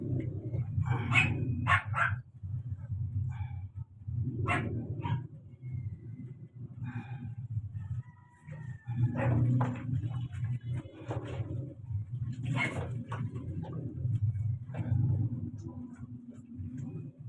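A dog barks in repeated short bursts with yips and whimpers between them, close and fairly loud, and there are quiet pauses between the bursts.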